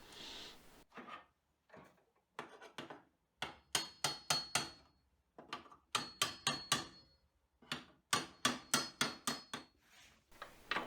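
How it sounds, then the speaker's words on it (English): Hammer blows on a wooden bucket made without glue, sharp close knocks in bursts of three to six rapid strikes separated by short pauses, fairly quiet and with no talking. "A smaller hammer would probably be better for this job."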